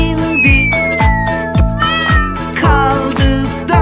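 A cartoon-style cat meows repeatedly within a bright children's song about five cats on a wall. The meows are loud and melodic and ride over a bouncy backing tune.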